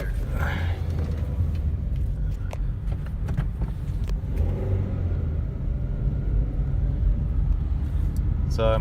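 Interior of a Toyota Corolla on the move, a continuous low engine rumble and road noise rising as it accelerates, with a brief voice and occasional clicks over the drive.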